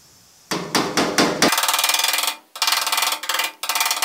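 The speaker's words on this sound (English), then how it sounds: "And I'm hitting it really lightly, really lightly." Light hammer blows land on the cab metal of a 1950 Chevy truck, first a few separate taps and then fast, even runs of close, sharp strikes with short pauses between bursts.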